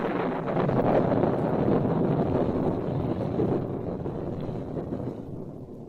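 Storm wind howling over the sea, a steady loud roar of gusting air with rushing noise that holds strong throughout and eases slightly toward the end, no voices.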